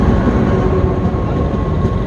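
The Bhagirathi Express pulls into a station with a loud, steady low rumble and rolling rail noise, close by and continuous.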